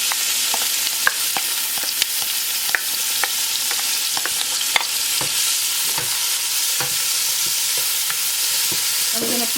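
Onions and garlic fry in hot oil for Caribbean fish chowder, a bright steady sizzle with sharp crackles and pops spread throughout, punctuated by occasional utensil taps and no speech.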